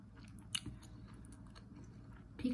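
Someone chewing a mouthful of Thai spicy beef salad, a soft close run of moist chewing and a couple of crunchy bites, quiet and without speech.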